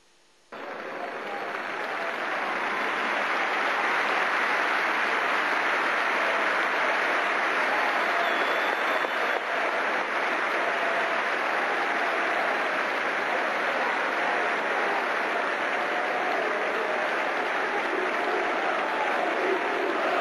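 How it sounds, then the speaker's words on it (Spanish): A large stadium crowd at an Argentine Torneo Clausura 2005 match between Estudiantes de La Plata and Racing Club applauds during a minute of silence, a dense, steady roar of clapping that holds for about twenty seconds without a break. "Aplauso respetuoso en algunos sectores"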